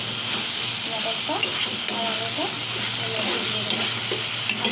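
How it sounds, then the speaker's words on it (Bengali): Chicken with garam masala sautéing in a pan, a constant bright sizzle with repeated stirring scrapes and light clinks of utensil against metal, a voice talking faintly beneath. "এর মধ্যে আমি দিয়ে গরম মশলাগুলো দিয়ে ভালো করে কষিয়ে নিচ্ছি"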